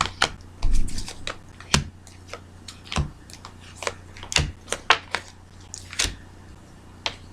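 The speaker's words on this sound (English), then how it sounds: "So I'm going to go ahead here and pull the cards for your guidance." Tarot cards are shuffled and drawn close up, with irregular crisp snaps, riffles and taps of card stock sounding alone at an uneven pace, some louder flicks standing out.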